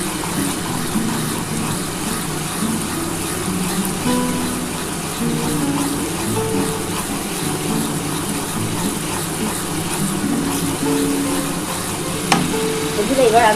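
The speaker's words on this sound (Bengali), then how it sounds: "যতটা ভালোভাবে মশলা কষানো যাবে।" Masala for a Bengali katla fish kalia sizzling and frying steadily in a pan with oil, a continuous close crackle with scraping stir strokes throughout, no voices.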